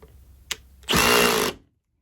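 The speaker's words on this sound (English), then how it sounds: "I'm clearly holding this paddle bit at an angle, and that's the problem." A power drill spins a paddle bit into wood at an angle. A short click comes first, then about half a second of loud, close whirring and grinding that cuts off abruptly.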